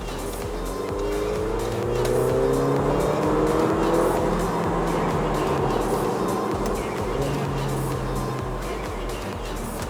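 A 2018 Mercedes-Benz GLA45 AMG with a 2-liter turbocharged engine accelerates hard to overtake, its engine note climbing and swelling loudly from inside the cabin amid road and tire roar.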